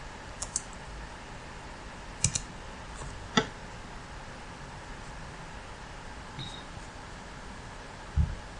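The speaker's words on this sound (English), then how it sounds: "the moment I start typing" Sparse, soft key taps on a computer keyboard, a few isolated clicks spread out over a quiet background hiss.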